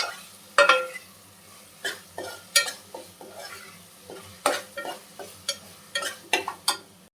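A spoon scrapes and clacks against a pan while drumstick curry with onions and tomatoes is stirred, giving irregular sharp metallic knocks over a soft continuous sizzle, close and fairly quiet.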